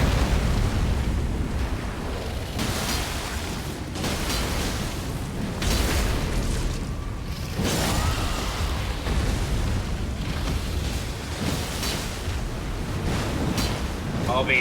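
Madness missiles spell explosions in a video game land as a series of rumbling, roaring bursts that swell and fade over a steady low roar, loud and continuous, with a player's voice occasionally over them.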